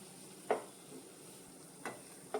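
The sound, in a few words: stirring semolina in milk in a pan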